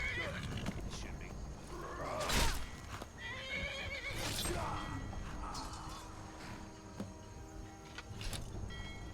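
A horse whinnies sharply amid game ambience with clip-clopping and mechanical noises, moderately loud over a busy background.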